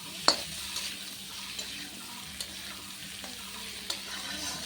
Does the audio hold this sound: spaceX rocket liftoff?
no